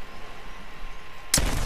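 A single loud, sharp PK machine gun shot cracks out near the end of a short stretch of quiet game ambience, ringing briefly afterward in an online shooter.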